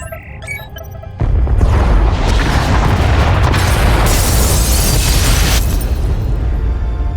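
Pod bays exploding in Star Wars: The Old Republic, a sudden loud blast that swells into a sustained roaring rumble of destruction filling the space for several seconds.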